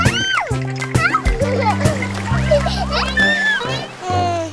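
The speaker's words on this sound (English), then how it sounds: "Okay, kids, you can go in the water now." Cartoon children splash into the ocean, with bright splatters and sloshing water. The splashing sits under a lively sung melody and children's voices throughout.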